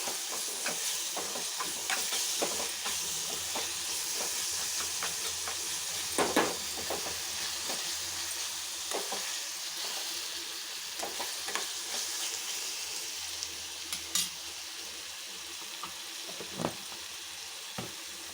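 Ginger garlic paste frying in a pan for a village-style chana dal curry, a steady close sizzle with frequent spoon stirring clicks and scrapes.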